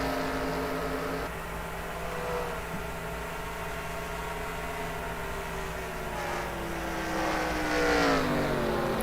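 Race cars on a track in a season final, steady layered engine drone with shifting pitch as cars pass, rising toward the end, continuous and fairly loud with no voices.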